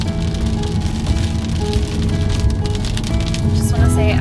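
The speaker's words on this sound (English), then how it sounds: "It just started raining just as these roads got ridiculous." Rain falls on a camper van driving winding mountain roads on a vanlife trip through West Virginia and Virginia, a steady close patter on the body under a constant road rumble, with some talk.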